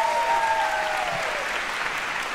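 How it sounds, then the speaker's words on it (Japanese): Applause for a school brass band fills the hall, a steady broadband clatter of many hands that runs throughout without pause, with a faint whistle-like tone fading early. "吹奏楽部の皆さんにもう一度拍手を"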